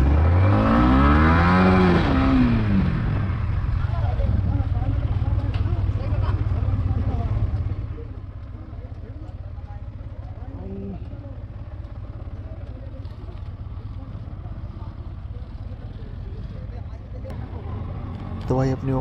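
An off-road vehicle setting off on an off-road trail, its engine revving hard with rising and falling pitch at first, then settling into a steadier, quieter rumble as it moves along, with people talking over it.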